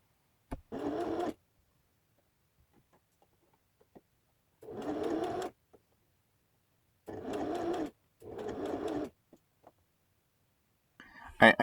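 Home sewing machine stitching a whale plushie, four short whirring bursts of stitching, each about a second long, separated by quiet pauses, close and moderately loud with faint clicks between.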